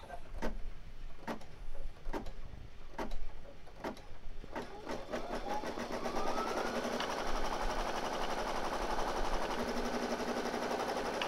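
An embroidery machine stitching gingham fabric held in a hoop starts with a series of spaced mechanical clicks, then settles into a steady, fast rhythmic whirring and tapping of the needle, close and continuous.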